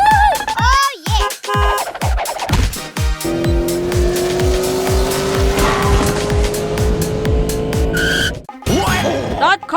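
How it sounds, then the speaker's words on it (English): A cartoon car speeds through a red light and changes lanes, its engine roaring loudly while tires screech in a long skid that carries for several seconds before it cuts off. "That car ran a red light and also changed lanes, damaging the trash bin."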